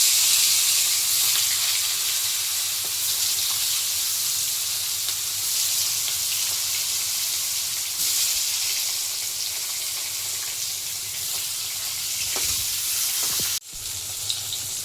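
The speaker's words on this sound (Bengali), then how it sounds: "এবার একে একে মাছগুলো দিয়ে দেবো তেলে।" Hilsa fish pieces frying in hot oil in a kadai, a loud steady hiss and crackle of sizzling that continues unbroken for the whole stretch, with a brief clatter near the end.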